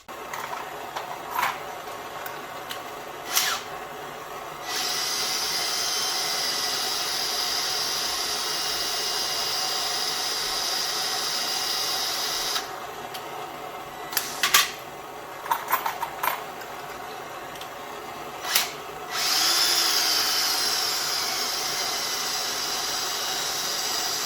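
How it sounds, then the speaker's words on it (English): A drill spins a brass cartridge case while a torch anneals it: a steady high-pitched mechanical whir runs almost throughout, with a few sharp clicks and taps and a brief hissing burst near the end, with no talking. "I'm going to put it in a drill, spin it, and hit it with a torch."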